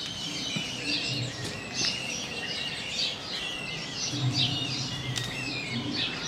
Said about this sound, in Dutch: Ik hoor ook allemaal vogeltjes die daar lekker aan het schuilen zijn.